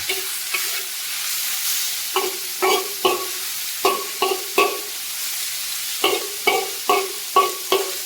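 Pork stir-fried over high heat, a steady background sizzle broken by regular scraping strokes of a spatula in a wok, about a dozen rhythmic stirs, close and clear with no talk.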